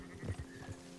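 A sheep from a flock being driven toward Valentine in Red Dead Redemption 2 lets out a short, close bleat with a couple of wavering pulses in under a second.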